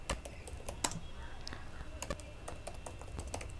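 Rapid typing on a computer keyboard, steady irregular clicks of keys close up over a low hum, with no voice.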